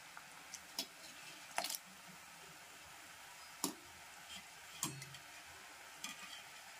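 Wheat flour shankarpali dough pieces frying in hot oil, a faint, steady sizzle with a few scattered sharp pops and clicks as pieces drop in and are stirred.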